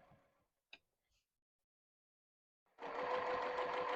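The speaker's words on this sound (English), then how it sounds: "Just go right up on the edge and stitch it down." Sewing machine running a continuous stitch along the edge of quilt binding on a small Halloween ghost quilt, starting after a couple of faint clicks and near-silence, then a steady, close, loud mechanical hum.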